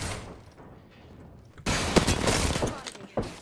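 Gunfire in the Apex Legends video game crackles in dense bursts, starting after a quieter stretch of low rumble and followed by a second sharp volley near the end, fairly loud and with no speech over it.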